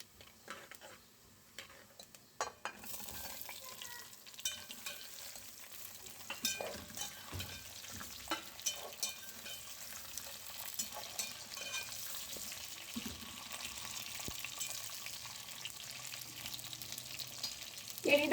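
Raw green mango pieces dropped into hot oil for a quick pickle, giving a steady low sizzle with scattered stirring clicks. The frying grows busier partway through and stays moderately close with no talking.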